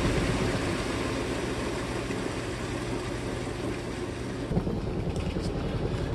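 A Giantex portable washing machine, 1.34 cu.ft, runs its spin cycle with a load of bed sheets, giving a steady, loud mechanical whir and rumble throughout that briefly shifts in tone near the end.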